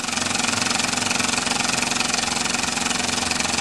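An S.E.L. standard toy steam engine runs on live steam, giving a loud, fast, even chuffing and hissing rhythm that continues steadily and smoothly up close without pause.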